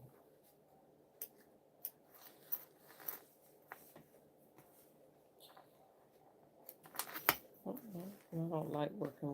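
Scissors snip loose threads during sewing of a Chandler fanny pack, a few short crisp clicks scattered through quiet room tone, with louder handling noise and rustling toward the end.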